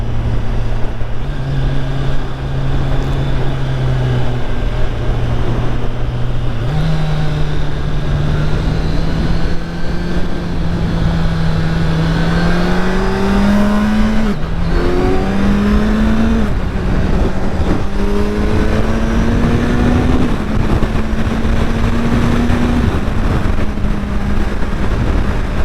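A 2021 Kawasaki Ninja 1000SX accelerating hard on a highway, its engine note climbing steadily through several gear changes under constant loud wind rush.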